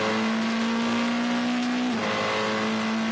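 GT race cars at the Monza circuit roar past loudly and continuously, a steady high engine note holding before dropping in pitch as one car passes and the next carries on.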